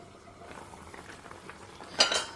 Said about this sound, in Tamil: ஸோ நல்லா கொதிக்க ஆரம்பிச்சிருக்கு.